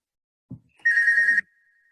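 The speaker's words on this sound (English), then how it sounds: "Oh, someone's got a phone call." A telephone rings during a language-teaching forum: after a faint thud, one steady electronic ring tone sounds for about half a second, then a thin tone trails off quietly.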